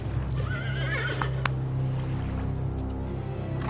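A horse whinnies loudly with a wavering neigh, followed by a couple of sharp hoof knocks and a low steady rumble underneath.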